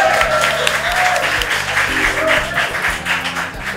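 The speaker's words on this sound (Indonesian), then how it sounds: "Ya tepuk tangan." Students in an audience at a school talk event break into sustained, dense applause that stays steady and loud throughout.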